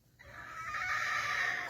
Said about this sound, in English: if you don't mind the roosters and the chickens